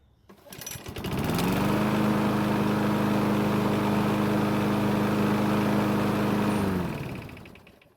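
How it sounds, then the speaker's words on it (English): A Craftsman lawn mower engine, already hot, sputters, catches and starts, settling into a loud steady drone close by before cutting off near the end. "As you just saw and heard, this mower is very easy to start"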